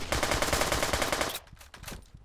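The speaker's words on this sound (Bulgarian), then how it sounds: "Един изстрел от картечницата ги убива." Rapid machine gun fire in a police hostage-rescue video game, a fast steady burst of shots for over a second, followed by a few scattered heavier shots.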